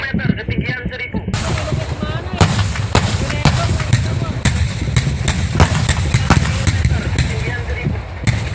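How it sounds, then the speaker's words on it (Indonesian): Rapid bursts of fireworks crackling and popping over a low rumbling roar, dense and continuous, with sharp cracks cutting through. "Kembang api, bos."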